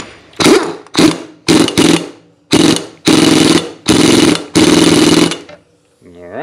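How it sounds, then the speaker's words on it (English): An impact wrench runs a nut down on a Case 580 K backhoe swing hydraulic cylinder, firing in seven loud, close bursts of hammering rattle, short bumps at first and then longer pulls, separated by brief pauses. "I just run it down with the impact and bump it a few times"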